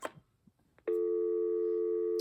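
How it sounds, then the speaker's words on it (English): A BellSouth VTech BS2425 2.4GHz cordless phone plays a steady, loud ringback tone during a test call. The tone begins abruptly after a few quiet handling clicks and holds unbroken to the end. "let's see if we can do a test call with ringback"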